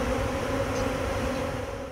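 A steady, droning buzz of many bees around hives in Egypt, continuous and fairly close, with no voices.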